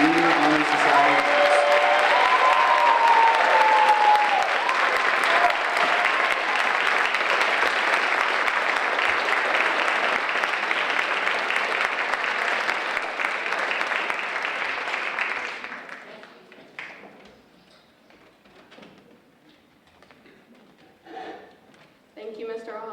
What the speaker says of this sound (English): Please join us in a round of applause for this year's National Junior Honor Society.